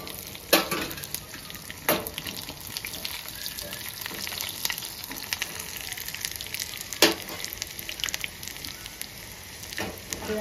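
Coriander, cumin, dried red chillies and curry leaves frying in hot oil for a tomato rasam tempering: a steady close sizzle and crackle with a few sharp pops and spoon scrapes.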